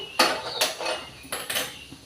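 A metal kadai is set down on a gas stove, a few sharp clanks and scrapes of metal on metal in quick succession, close and clear with no talking.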